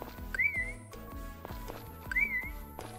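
Two short rising whistles in a Story of Seasons farming video game, used to call a horse, each over a steady bed of plucked, bouncy game music with no talk.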